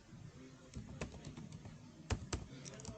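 A git command is typed on a computer keyboard in a run of soft, quick key clicks with a couple of louder presses near the end, faint and close over low room noise.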